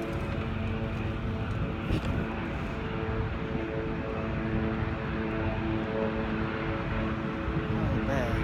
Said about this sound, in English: That helicopter coming on in fast too.